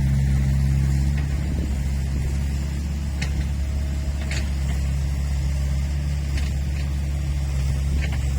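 Six-wheel dump truck with a loud exhaust pipe, its engine holding a steady deep rumble close by, with faint clicks and knocks over the drone and no talk.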